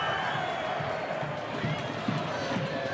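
A stadium crowd at an A-League football match between Perth Glory and Brisbane Roar keeps up a steady roar of cheering, with a commentator talking over it.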